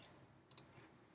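A computer keyboard key pressed, giving two quick faint clicks close together over quiet room hiss, with no voices.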